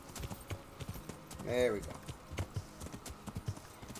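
Horse hooves clip-clop in the medieval video game Kingdom Come: Deliverance, a steady rhythmic trot close by, with someone talking over it and a brief whinny midway.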